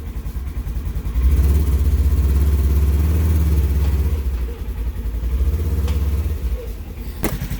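A Polaris General UTV engine, freshly fitted with a Gilomen clutch kit and tuned ECU, runs close by with a loud, throbbing idle that rises into two gentle revs and settles back, with a brief sharp click near the end.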